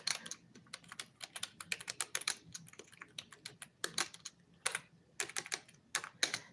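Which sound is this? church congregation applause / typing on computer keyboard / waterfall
typing on computer keyboard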